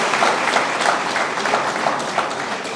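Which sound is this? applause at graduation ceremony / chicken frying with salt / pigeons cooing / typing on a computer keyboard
applause at graduation ceremony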